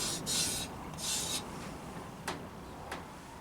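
A finger rubs black powder fouling on a test surface, producing two short, gritty scraping strokes followed by a couple of faint taps in an otherwise quiet room.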